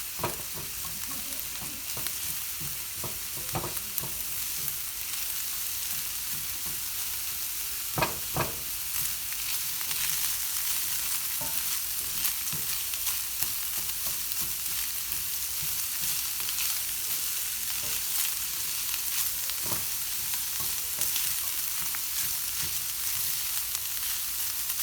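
Stuffed chicken breast fries steadily in a pan, a dense continuous sizzle with occasional louder pops and crackles throughout, with no talking.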